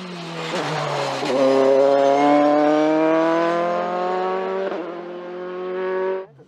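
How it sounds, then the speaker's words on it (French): Dallara F302 Formula 3 race car at the Dunières hill climb, a loud close engine note rising steadily through the gears with brief shift breaks, the pitch climbing as it passes and fading abruptly at the end. "Didier Brun signe à nouveau une prestation de référence à Dunières sur sa Dallara F302"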